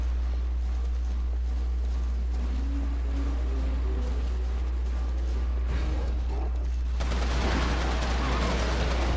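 Gunfire from Resistance 2 in Iceland sounds as distant, muffled shots over a steady low rumble, ending in a louder, harsher burst of noise.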